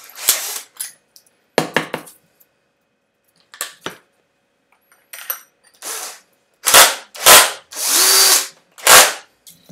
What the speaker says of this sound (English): Hey, my drill.